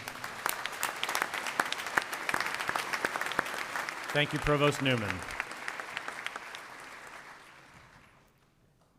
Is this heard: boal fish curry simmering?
no